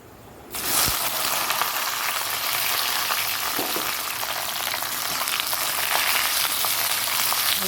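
Five-spice seeds tempering in hot oil burst into a loud, steady sizzle after a quiet first half-second, the crackle holding even and close with a light knock or two.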